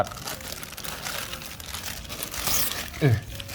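As a latex mattress expands after being unpacked, its plastic wrapping gives off a steady crinkling and rustling, with a louder crackle near the end. Someone talks over the sound throughout.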